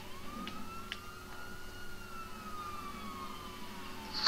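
A police car siren wails in GTA 5 Online, a rising and falling tone at moderate distance over low traffic rumble.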